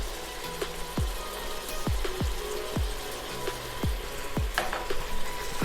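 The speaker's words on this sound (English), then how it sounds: "Now we are cooking it again on medium flame for 4-5 minutes until the rawness of ginger garlic has gone." Lamb frying with minced ginger and garlic over a medium flame, a continuous crackling sizzle broken by repeated sharp clicks and taps of a spoon against the pan.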